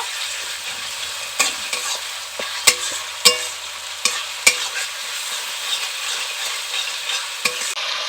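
A stir-fry with torn green chilies and ginger-garlic paste sizzles softly while a utensil repeatedly scrapes and knocks against the pan in irregular strokes.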